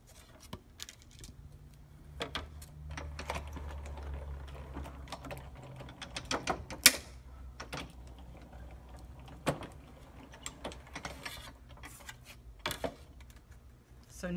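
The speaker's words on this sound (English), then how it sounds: "I'm going to turn my pretty paper over and cut the opposite way." Scissors cutting through patterned craft paper during card-making: a quiet run of crisp snips and clicks, irregular in rhythm, close to the listener, with faint handling rustle between cuts.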